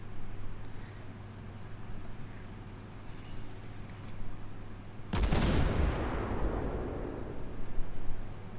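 Battleship guns fire in the World of Warships game: one sudden heavy boom cuts through a low engine drone, followed by a long rolling rumble that fades slowly.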